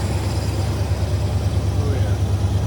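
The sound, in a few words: car engine idling at high RPM with Holley Sniper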